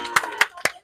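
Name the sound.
people clapping hands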